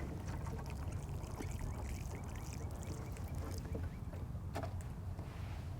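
Water poured onto garden soil around a freshly transplanted tomato plant, a steady close splashing and trickling that runs unbroken throughout with no voices.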